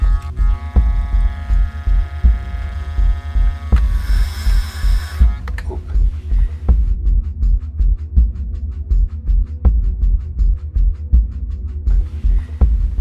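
Model train locomotive from a GWR freight set running with its motor humming on high, a steady low drone under a regular clicking rhythm of wheels on track joints, with a brief brighter whirring burst partway through.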